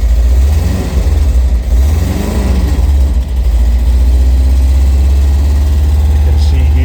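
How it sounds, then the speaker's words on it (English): A car engine roars loud and close on a cold 29-degree day in New York, a heavy steady drone with slight swells of revving throughout. "I will rev the engine"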